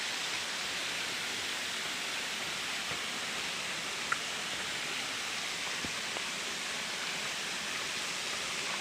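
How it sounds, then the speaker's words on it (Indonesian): Steady broadband roar of a river waterfall in Ponorogo, a constant hiss-like rush of falling water, fairly even and unbroken, with a faint tick or two over it. "Di bawah curug tuh."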